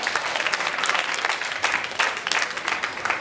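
Audience at a stand-up comedy show breaks into steady, dense applause, a continuous wash of clapping hands held at an even level for the whole stretch, with no voices standing out.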